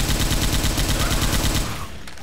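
Rapid automatic gunfire in the zombie shooter Left 4 Dead 2, a loud, steady stream of close shots that thins out and stops near the end.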